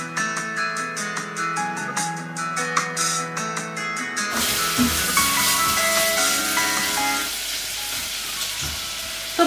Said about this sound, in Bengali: তো পটলটা এখানে ভাজা হচ্ছে